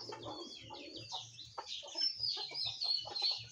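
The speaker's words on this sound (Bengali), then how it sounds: "দেখি মুরগি তোরা কিছু ঠুকরাস।" Several chickens cluck and squawk nearby as they peck at food, their calls overlapping in a busy, uneven chatter with some sharper high cries.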